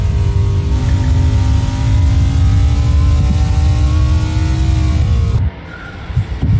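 Mini Cup race cars at full throttle on the Queensland Raceway circuit, a loud continuous mid-pitched engine drone with rising harmonics that cuts off sharply near the end, leaving a quieter engine rumble.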